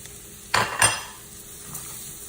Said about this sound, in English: Now I'm gonna go ahead and add my rice to it.